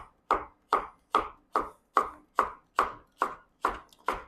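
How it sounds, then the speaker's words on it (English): Thin slices of courgette cut by a knife on a cutting board: ten crisp, evenly spaced chops at a steady rhythm, close and clear with nothing else heard. "Let's cut the skin, 1 out of 2. Yeah, we'll do thin slice like that."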